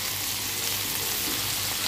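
Turmeric and spice paste sizzling in a fish curry pan with potatoes and fried rohu fish; a dense, constant, close hiss of frying with no pauses, no voices.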